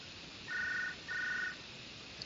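Two long electronic trill rings from a phone in a video game, each about half a second, separated by a short pause, fairly clear over a faint hiss.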